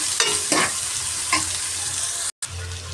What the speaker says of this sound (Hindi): प्याज भुनने लगा है